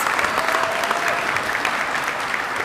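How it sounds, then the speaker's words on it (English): Audience applause fills a commencement ceremony hall, a steady dense wash of clapping from a large crowd, loud and continuous throughout with no talk over it. "Please give them a round of applause."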